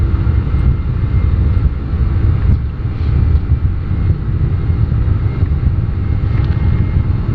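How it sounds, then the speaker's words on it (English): Jet engines of a German Air Force Airbus A310 at takeoff power, heard as a loud, steady, broadband roar inside the cockpit, continuous and unbroken throughout. "Takeoff power set."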